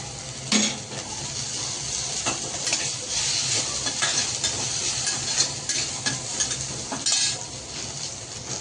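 Okra frying with turmeric and coriander powder is stirred in a pan, a steady sizzle under scraping spoon strokes and occasional clinks against the pan.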